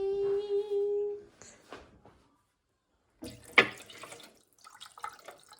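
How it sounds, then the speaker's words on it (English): Soaking water from walnuts is drained into a kitchen sink: after a quiet pause, a short, close splash and gurgle of pouring water, then trickling drips. "You're gonna drain this water. Well, let's just drain it now. Hopefully I don't spill any in the sink."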